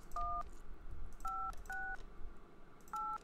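Telephone keypad dialing tones from the video game Kentucky Route Zero sound as four short two-tone beeps in uneven succession. They are faint over a quiet background hum.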